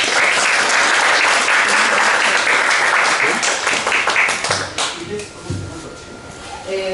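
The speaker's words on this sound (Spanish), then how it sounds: "les pido un aplauso para Carla Flores" Audience applause at a philosophy of religion conference, welcoming a speaker: dense clapping from a crowd fills the room, staying steady before thinning and fading toward the end, with a few scattered claps and faint voices underneath.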